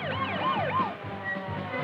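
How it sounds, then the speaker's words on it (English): An ambulance siren wails with rising and falling sweeps as it speeds the injured to hospital during a nuclear weapon accident exercise, loud and fairly close over a background of road noise, with no talking. "soon an ambulance speeds the injured to a nearby hospital"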